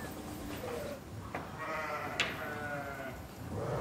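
A flock of Basco-Béarnaise dairy ewes bleat on a sheep farm, several overlapping calls near and far rising over a steady background murmur.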